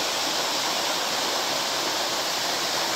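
A waterfall beside a rock face pours in a constant, even roar of rushing water, near and loud, steady throughout without any talking.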